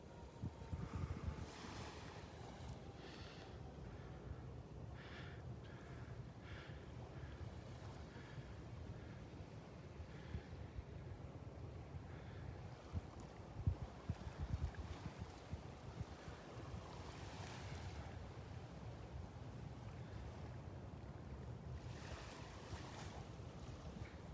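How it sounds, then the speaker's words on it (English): Steady breeze gusting across an open beach at Delnor-Wiggins by the sea, rushing and rumbling against the microphone continuously, with surf washing faintly beneath and no voices. "Love the breeze blowing the sea oats."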